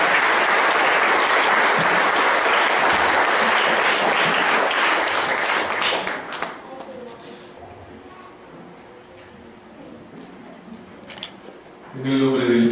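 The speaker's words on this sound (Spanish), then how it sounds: "Damos un aplauso, por favor," Applause from a congregation during a Catholic Mass in church, loud and sustained for about six seconds before dying away into quiet, with a voice speaking briefly at the end.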